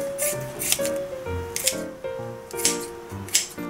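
Kitchen scissors snip through a grilled stonefish (oni-daruma-okoze), making several close, crisp cuts with faint squishy and clicking sounds between them.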